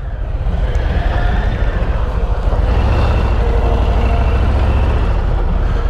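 A Harley-Davidson Street Glide ST motorcycle underway produces a loud, deep, continuous engine rumble mixed with wind roar, steady throughout with no speech.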